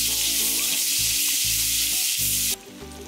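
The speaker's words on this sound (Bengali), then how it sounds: "পেঁয়াজ দিয়ে হালকা নেড়ে ভেজে নিতে হবে।" Chopped onions, about half a cup, sizzle loudly in hot oil as a recipe for sweet pumpkin is cooked, with bursts of stirring scrapes before the hiss drops off sharply near the end.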